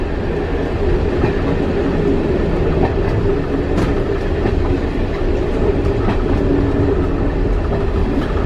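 Cab ride aboard a diesel railcar on the West Somerset Railway between Bishops Lydeard and Crowcombe, with a steady loud engine and track rumble and occasional sharp wheel clicks over the rails, continuous throughout.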